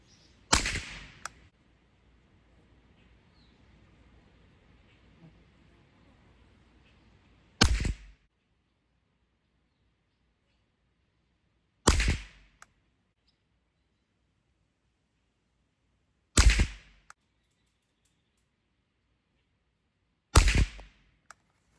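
Five sharp rifle shots from a Savage 64 firing CCI Mini-Mag rounds ring out outdoors, spaced several seconds apart with near silence between them, each crack short and loud.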